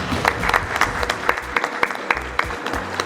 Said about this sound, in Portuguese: peço uma salva de palmas a toda a mesa aqui